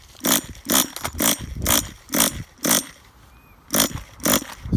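A finicky Tamiya TGS-R nitro RC car engine trying to start, giving about nine loud, close, rasping bursts in a regular pulse with a brief pause partway through.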